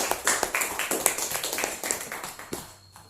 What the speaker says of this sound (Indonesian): kita beri aplaus untuk teman kita